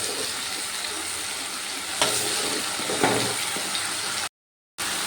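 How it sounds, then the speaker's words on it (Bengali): Onion and tomato paste with spices frying and being stirred in a pan, a steady close sizzle with a couple of sharper scraping clicks of the spoon, then a brief cut to silence near the end. "এবার এই টমেটোর পেঁয়াজের পেস্টটা একটু ভালো করে কষিয়ে নেবো"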